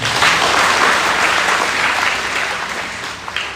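A church congregation breaks into steady, dense applause, loud and continuous for a few seconds before gently tapering.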